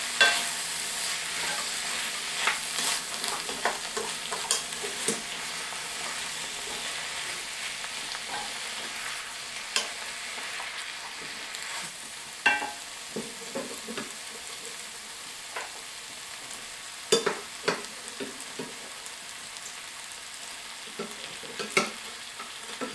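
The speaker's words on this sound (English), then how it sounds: "I am going to put in the broth." Broth going into a pot of potatoes for a potato sausage soup, with close, soft sizzling and stirring plus scattered clinks of the spoon against the pot.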